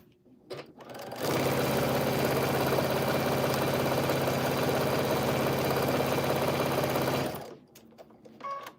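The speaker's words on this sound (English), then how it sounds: "we're going to sew this right on through" A sewing machine stitches a quilt block in one continuous run of about six seconds, a close, steady whirring drone that starts abruptly and stops cleanly, with quiet handling sounds before and after.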